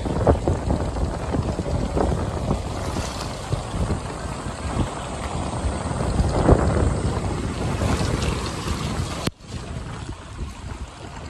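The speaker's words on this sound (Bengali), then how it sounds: "নৌকা আস্তে আস্তে বাড়ি ফিরছে সব" Steady low rumble of a boat engine on a river near Raichak, with wind buffeting the microphone and a continuous wash of moving water throughout.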